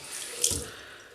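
A safety razor being rinsed under a running tap at a bathroom sink, a brief soft rush of water with a splashy swell in the middle, close and fairly quiet.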